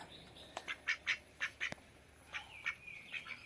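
Ducks quack repeatedly nearby in short, nasal bursts while feeding, a few calls overlapping with quieter squawks in between.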